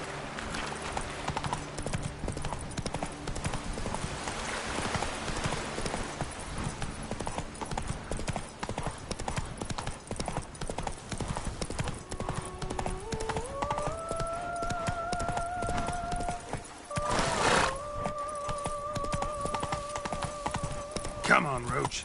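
The horse Roach gallops in The Witcher 3, with steady rapid hoofbeats and occasional whinnies under game music and ambient sound, and a voice speaks briefly over it.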